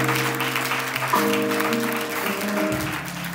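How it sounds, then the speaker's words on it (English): A church congregation clapping in praise, a busy sustained patter of hands under sustained organ or keyboard tones and low voices. "Give God a hand clap of praise"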